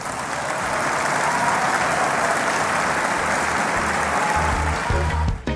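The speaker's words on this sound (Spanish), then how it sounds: "aplausos ahí de los propios" Supporters in the hall applaud during a speech by Argentine president Milei, a loud, dense, steady burst of clapping for over five seconds that cuts off abruptly near the end.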